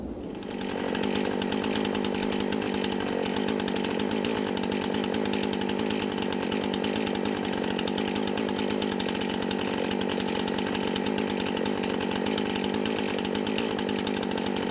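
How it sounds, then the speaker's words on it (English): A chainsaw runs at full throttle, loud and close, making freehand planing cuts along a log in a continuous, steady roar with no pauses. "Let's go ahead and start the saw up and try to do some freehand cuts on this, planing cuts on this log over here"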